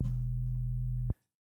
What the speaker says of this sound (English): let me play a sine wave.